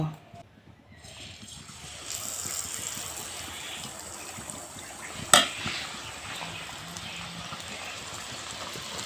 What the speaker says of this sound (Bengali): এখান থেকে একটা হাতা দিয়ে আমি একটু করে বেটা দিয়ে দিয়ে পিঠে ভেজে নেব।